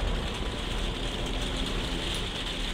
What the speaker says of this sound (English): Mild rain, infrequent